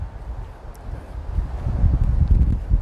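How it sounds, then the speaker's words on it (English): Wind buffets the microphone in low, gusty rumbles that grow stronger toward the end, outdoors in Amarillo. "It's a windy day here in Amarillo."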